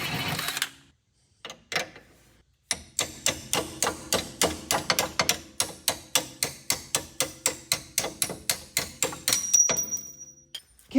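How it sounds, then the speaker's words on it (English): Hydraulic floor jack lowering a 2007-2008 Honda Fit GD during a MaxpeedingRods coilover install, heard as a quick, steady run of sharp mechanical clicks and ratcheting taps, close and fairly loud, after a few scattered knocks. "Now, let the jack down."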